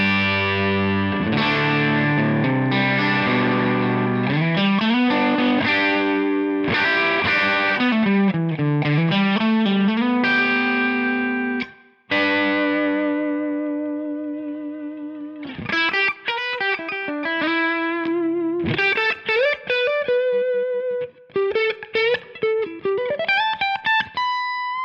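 Heavily distorted electric guitar plays chords and riffs through a Matchless Chieftain amplifier on the high input, loud and close, with brief pauses between phrases and a sustained crunchy tone.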